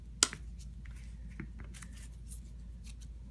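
A single sharp snip through a short piece of eucalyptus for a leaf crown, loud and close, with a few faint rustles and small clicks after it in a quiet room.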